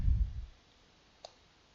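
A single crisp computer mouse click selects the accounting menu in POS software, quiet and close after a brief low rumble fades into near silence.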